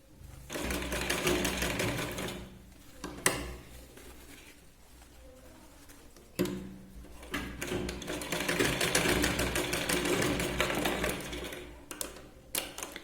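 An electric sewing machine stitches two blouse strips together in bursts of rapid, rattling whirring, pausing between runs with a couple of sharp clicks, close and fairly quiet.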